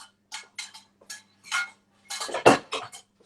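Dishes, pans and cutlery are cleared away in a kitchen during cooking, with about ten short clinks and clatters spaced irregularly, the loudest clank near the end, close and alone.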